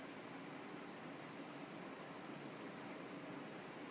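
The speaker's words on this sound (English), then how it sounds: "I'm going to be listening to rain" Rain falls in a steady, soft hiss of dense drops, faint and continuous, with no voices and no distinct individual drips standing out.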